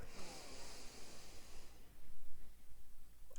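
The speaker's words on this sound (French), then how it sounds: "Donc j'inspire 4 secondes." A slow, steady inhale during a square breathing exercise, a soft airy hiss lasting about a second and a half, followed by quieter breathy rustle.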